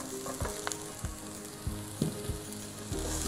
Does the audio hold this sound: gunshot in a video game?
no